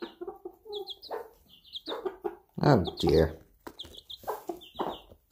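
Chickens cluck and chirp in repeated short bursts close by, including a pet hen named Chip, while a person talks over them.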